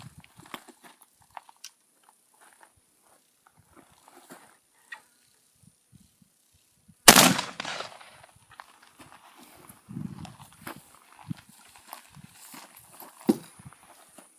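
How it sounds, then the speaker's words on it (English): A muzzleloader fitted with a 410-to-209 primer adapter fires once at a 20-yard target, a single sharp, loud blast that decays quickly, amid quiet rustling and handling noises before and after. "I'm going to shoot 20 yards."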